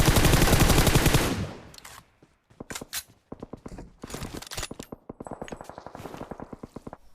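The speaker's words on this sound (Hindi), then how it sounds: "मतलब छेद से गोली मार रहा हूं" Rapid automatic gunfire from an M4 rifle in PUBG Mobile, a dense, loud burst that cuts off. It is followed by scattered shorter bursts and single shots with brief gaps between them.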